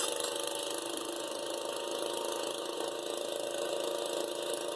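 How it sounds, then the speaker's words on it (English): A garden tractor engine in high (fourth) gear at full throttle gives a steady, loud, unbroken drone with a rough mechanical hiss that holds constant throughout. "High gear with that garden tractor."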